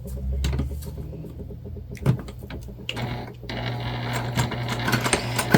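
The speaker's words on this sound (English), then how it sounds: "we're going to baste these together" Sewing machine basting two fabric pieces together for a crossbody bag, a loud close mechanical whir of rapid needle stitching, pausing briefly before running on steadily with small clicks.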